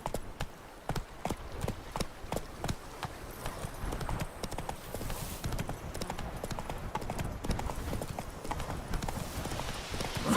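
Hooves of the horse Roach galloping in The Witcher 3, a rapid, even clip-clop rhythm of sharp strikes over a low rumbling ground, close and continuous with no talking.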